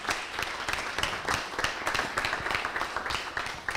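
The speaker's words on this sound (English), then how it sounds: "Round of applause for Lars." An indoor audience at a talk on participatory funding for grassroots climate projects claps for a speaker, a fairly quiet, brisk patter of many hands with sharp individual claps standing out, steady throughout.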